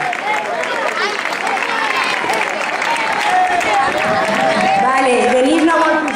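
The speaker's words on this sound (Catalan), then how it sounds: "m'agradaria que se li fes un aplaudiment" Applause from an audience at a ceremony honouring award-winning high school students, a loud dense clapping wash with cheering and overlapping voices mixed in throughout.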